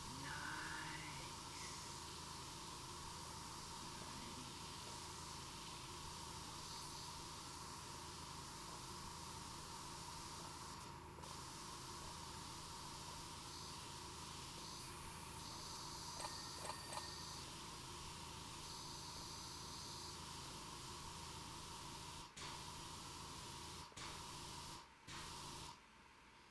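A pressure washer with a bigger nozzle spraying in the PowerWash Simulator video game, a steady, unbroken hissing spray that holds at even loudness throughout, with a few brief breaks near the end.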